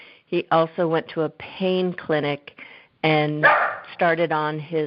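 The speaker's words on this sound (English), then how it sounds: "oops, sorry, that's my dog" An indoor pet dog barks and yips in short bursts close by, mixed in with ongoing conversation between people.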